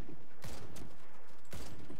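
Rapid bursts of gunfire in the video game Warface, two or three loud volleys in quick succession, close and harsh with brief gaps between.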